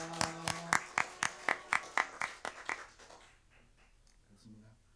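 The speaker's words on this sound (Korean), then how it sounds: "우리 같이 박수로서 감사합니다 이렇게 표현하겠습니다." A church congregation claps together in thanks to their pastor on Teachers' Sunday, with a run of about a dozen crisp, evenly spaced claps in unison that stop abruptly, leaving quiet room tone.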